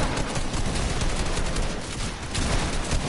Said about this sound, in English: I can't hear you with all the gunshots